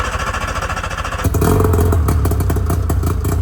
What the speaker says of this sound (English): we got the old engine running.